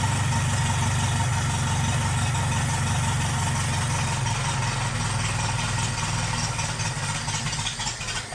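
A Toyota TA22 Celica engine from a rebuilt barn-find car idles steadily up close, a loud, continuous low rumble with an even mechanical drone that holds without a break.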